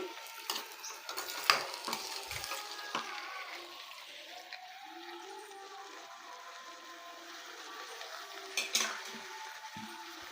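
Salt being stirred into a sizzling prawn curry in a pan: low steady frying hiss with scraping spoon strokes and a few sharp metallic clinks at the start and near the end.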